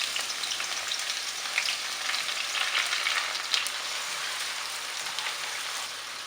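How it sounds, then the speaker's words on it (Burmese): Onions fry in hot oil with a soft, even, continuous sizzle and faint crackling pops, fairly quiet and without any voices. "စီပူပြီးဆိုရင်ကျက်သွန်နီထည့်ကြော်မယ်"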